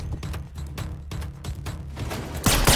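Gunfire from the John Wick action movie: a rapid series of sharp shots in quick succession, ending in a louder, denser burst.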